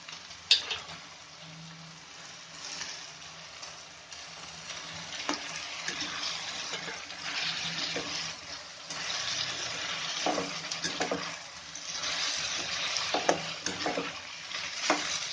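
Brinjal pieces fry in hot oil while a spoon stirs them, for vangibath, giving a steady close sizzle with scraping strokes and occasional sharper crackles throughout.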